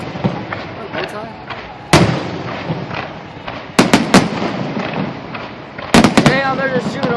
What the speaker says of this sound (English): Damn, they're just shooting them off. They're just shooting them off now.